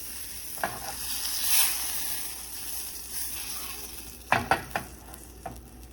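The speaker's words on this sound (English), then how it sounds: "you can add it to a separate pan. Put your butter in there." Butter melting in a separate pan over reduced heat for lemon caper haddock, a soft continuous sizzle with a few sharp clinks near the end, no talking.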